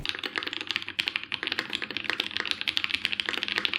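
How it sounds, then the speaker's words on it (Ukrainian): Rapid typing on an Akko 3098N mechanical keyboard, a dense stream of crisp clacky keystrokes at close range, steady and fairly loud with no voices. "звук друку на повністю кастомній клавіатурі"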